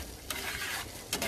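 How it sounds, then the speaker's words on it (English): Butter and sugar melt together in a pan for glazed snow peas, giving a soft, steady sizzle with brief brighter bursts of bubbling and a light stir. "now it's starting to sizzle"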